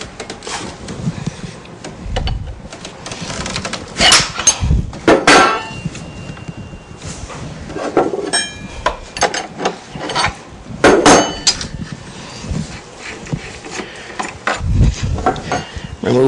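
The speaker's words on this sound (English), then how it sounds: "loosen the collet" Metal tools clank and scrape as the collet is loosened on a Shopsmith SS103 overarm router, with several sharp knocks and rattles coming close and loud and fairly evenly spaced, with no talking.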